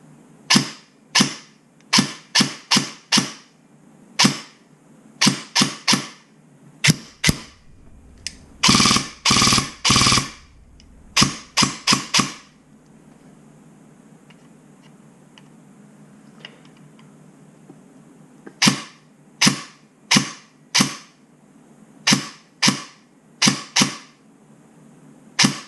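A Gate Titan Phantom airsoft gun fires in quick bursts of sharp, close clicks with mechanical bevel gear whir, single shots and short strings separated by quiet pauses.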